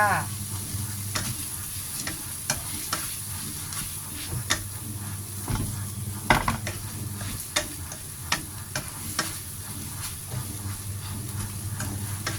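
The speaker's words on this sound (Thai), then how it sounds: "ผัดก๋วยเตี๋ยวหลอด ผัดให้แห้งเลยจ้า" Rice noodle rolls stir-fry in a hot pan, a steady close sizzle punctuated by regular sharp clacks of a spatula scraping and tossing, with no talking.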